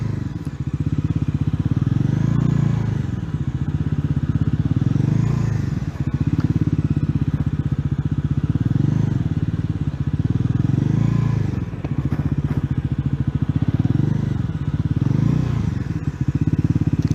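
A Bajaj Pulsar NS400Z motorcycle engine runs steadily up close, its low rumble rising and falling in repeated surges as the rider revs through turns, with some faint rattling.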